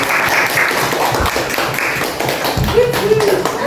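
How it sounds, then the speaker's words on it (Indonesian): Audience applause at a school dissemination session on positive culture, a burst of clapping from a gathered crowd lasting several seconds, with some voices and talk mixed in. "Kita beri tepuk tangan sekali lagi."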